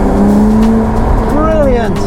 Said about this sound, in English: now we can hear this engine in all its glory with its unfettered sports exhaust